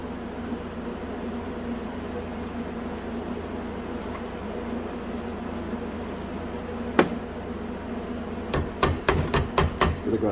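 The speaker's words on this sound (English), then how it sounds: "Could have got a smaller hammer, I think." Sharp metallic hammer blows on a 2010 Jeep Wrangler front axle during U-joint and ball joint replacement: one isolated strike, then a quick run of hits near the end, over a steady low mechanical hum.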